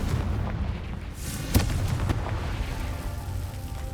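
A Confringo fire spell explodes in the Hogwarts Legacy game, a dull rumbling boom with a sharp burst near the middle over a steady low background rumble.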